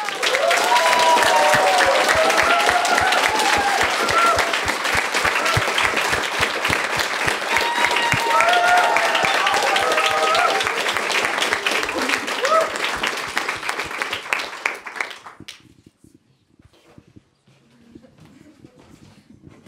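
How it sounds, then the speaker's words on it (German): An audience at a youth hackathon event applauds a mentor with sustained, dense clapping for about fifteen seconds, with a few cheers above it, before it fades to near silence. "Ein Applaus für Stefan, bitte."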